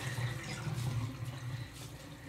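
Hot water runs steadily from a tap for soaking fabric, a faint continuous splashing stream with no voices.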